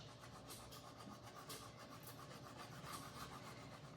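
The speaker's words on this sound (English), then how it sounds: "let's start to burnish" A resin tray is burnished by hand, making soft, continuous rubbing and scratching strokes that rise and fall in a loose rhythm. The sound is quiet and close, with no voices.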